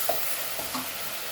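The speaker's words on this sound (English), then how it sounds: "So now as these are frying" Onions sizzle steadily in a hot pan with a soft frying hiss, plus a few faint stirring clicks and scrapes.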